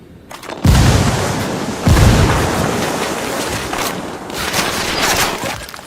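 A frag grenade blast and a burst of gunfire in Ghost Recon Wildlands, with two heavy booms close together followed by sustained loud rattling fire and rumbling.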